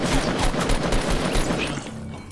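Rapid bursts of Fortnite gunfire crackle through a dense, continuous battle mix, loud and sustained for most of the moment before easing slightly near the end, with no talking.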